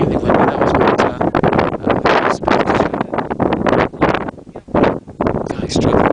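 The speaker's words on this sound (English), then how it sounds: "It's extremely windy." Strong wind on the Island Peak trek in Nepal buffets the microphone in loud, roaring gusts with brief lulls, close and constant throughout.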